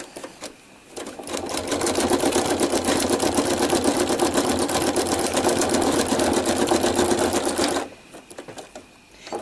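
A sewing machine stitching an art quilt runs in one continuous, loud, rapid mechanical rhythm for several seconds, then stops abruptly, leaving quiet room tone.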